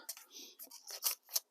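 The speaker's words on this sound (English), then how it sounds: "I'm just using the knife, just kind of gouging and not being real careful." A knife gouges and scrapes at foam rock scenery in a series of short, close, crisp cutting strokes with brief pauses between them.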